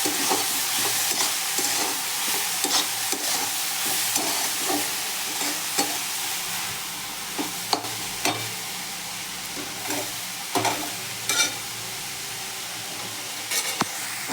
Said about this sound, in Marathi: कांदा ब्राऊन होत आहे